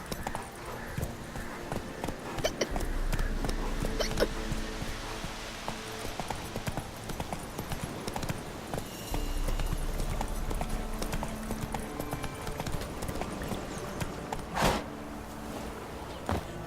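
A horse gallops in The Witcher 3, its hoofbeats a steady, moderately loud clip-clop that runs through most of the stretch, with a brief louder knock near the end.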